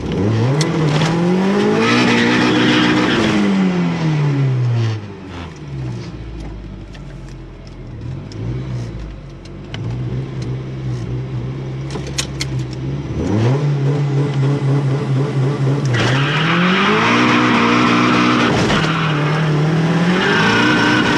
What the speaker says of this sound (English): Okay, so I'm gonna race the all-wheel drive Citi Golf.